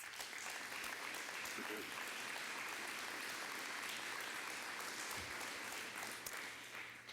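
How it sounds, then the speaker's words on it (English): Parents and children at an elementary school D.A.R.E. graduation give a round of applause. The steady, fairly soft clapping comes from across the room, with faint voices mixed in. "Give them a round of applause."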